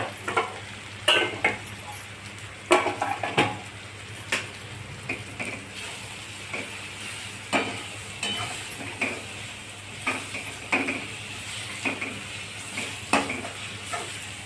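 Paneer bhurji masala sautéing in a pan at home, a soft continuous sizzle under repeated scraping and stirring strokes of a spoon against the pan, knocking at an irregular rhythm, close and fairly quiet.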